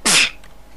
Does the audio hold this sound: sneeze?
yes